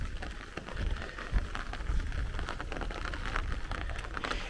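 Heavy downpour in a thunderstorm squall line over Brooklyn, New York, a steady hiss of rain hitting surfaces with a low rumble and a brief thump, moderately faint and without talking.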